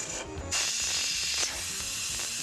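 A pressure cooker holding mutton vents steam with a steady, loud hiss that surges after a brief quieter moment, a faint rattling mechanism underneath, with no talking.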